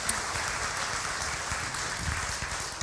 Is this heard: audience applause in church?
yes